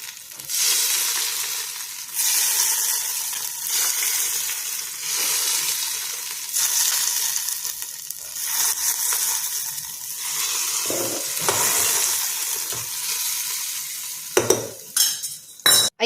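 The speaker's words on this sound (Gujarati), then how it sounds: "આપણે વઘાર રેડીશું।" Hot oil tempering poured over handvo batter in a pressure cooker gives a steady, close sizzling hiss that rises and falls, ending in a few sharp utensil clatters.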